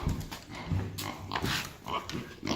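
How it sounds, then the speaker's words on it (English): Potbelly pigs grunt in a farm barn while waiting for breakfast, with a series of low, uneven grunts and snorts at moderate distance, fairly faint overall. "you can hear behind me the potbelly pigs"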